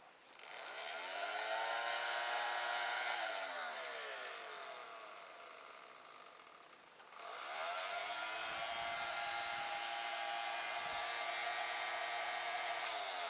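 A small electric motor drives the ducted fan of an RC toy car, giving a steady high whine as it spins up, runs, slows and spins up again. The sound is fairly faint and carries no voices.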